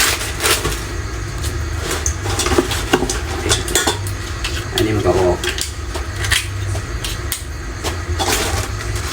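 Washed Thai cabbage is cut for a simple clear soup, with repeated knife chops and clinks on a cutting board among kitchen clatter while a person talks.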